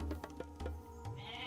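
Goats in the Age of Mythology video game let out a couple of short, nasal bleats over a droning game soundtrack, clear and close, with no speech.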